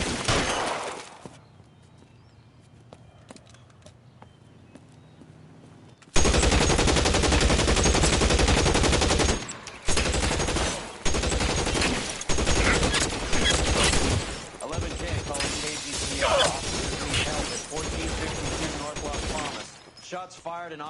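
Heavy bursts of automatic gunfire from the L.A. Noire video game erupt after a quiet stretch, loud and sustained with rapid repeated shots, broken by brief pauses and shattering impacts.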